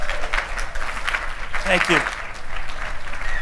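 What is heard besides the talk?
audience applause for the speaker's grandkids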